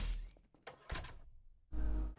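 A door in the Garry's Mod video game shuts with a few dull thunks and a heavier closing thud at the end, fairly close and faint, with no talk over it.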